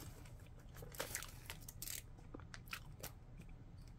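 Someone bites and chews a watermelon-flavoured candy close up, giving soft, quiet crunches and squishy chewing clicks in an irregular rhythm over a low hum.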